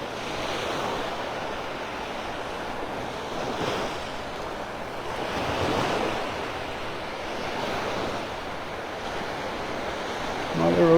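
Ocean surf at sunset on the beach at Delnor-Wiggins in North Naples, with waves washing in as a continuous loud roar that swells and fades in slow surges, mixed with wind buffeting the microphone.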